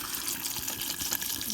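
Water runs steadily into a cooking pot as it is filled to cover elderberries for jelly, a close, continuous gushing pour with a faint voice underneath.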